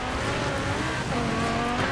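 Loud, steady roar of a V10-swapped Audi Rally RS7 in the game Forza Horizon 4, engine droning close with tires hissing and squealing on the track, no pauses.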